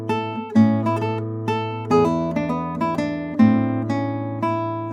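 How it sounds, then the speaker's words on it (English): Classical guitar playing a slurred passage from a Sor Allegretto, with the pull-offs snapped too early so the notes come out uneven; plucked notes ring clearly in a steady but lopsided pulse, no talk. "many students tend to pull off too quickly on those two slurs, mangling the rhythm"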